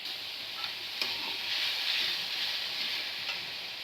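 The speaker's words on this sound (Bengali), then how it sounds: "একটু নেড়ে নিয়ে আমি চিনিটা দেবো।" Coconut filling with sugar being stirred in a pan for a palm-fruit pitha, a steady soft sizzling hiss with faint scraping ticks of the spoon, close and continuous with no talk.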